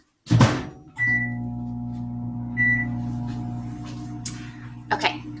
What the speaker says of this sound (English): you're gonna put this in the microwave for 90 seconds